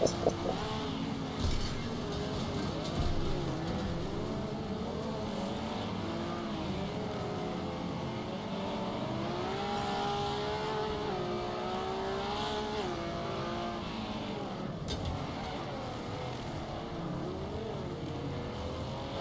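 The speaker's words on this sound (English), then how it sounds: "I think the car does sound a little bit different" A race car engine in a video game drones steadily throughout, rising and falling in pitch as it accelerates and eases off, loud and close with no talk.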